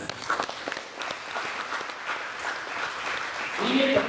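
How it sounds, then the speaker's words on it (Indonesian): A crowd of teachers and attendees at a religious moderation event in Indonesia breaks into applause, a steady wash of clapping that grows louder near the end, with voices mixed in. "Tepuk tangan."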